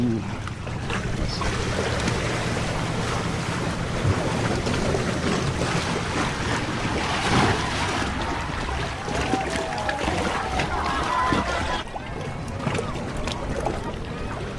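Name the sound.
ocean waves crashing on the beach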